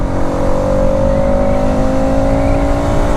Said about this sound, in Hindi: इफ़ आई थ्रॉटल फुल, मैंने फुल थ्रॉटल कर रखा है, फुल एकदम